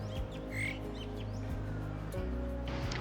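Birds call by the river at Winchester City Mill: a few short chirps and a duck-like quack rise over a steady low rush of flowing water and a faint background hum.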